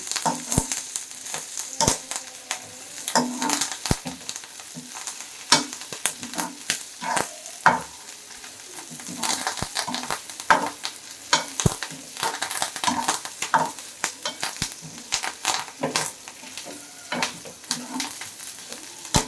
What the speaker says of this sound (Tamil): தேங்காய் எல்லாத்தையுமே வதக்கிடுங்க